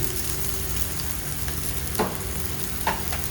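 Raw banana and potato pieces with turmeric and spices frying steadily in hot oil, a continuous close sizzle with a couple of brief stirring scrapes, no talking.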